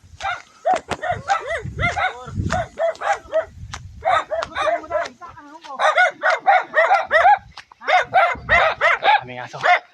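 A dog barks repeatedly in short rhythmic bursts at a hillside overlook in Bohol, close and loud, with a rooster crowing and people talking in the background.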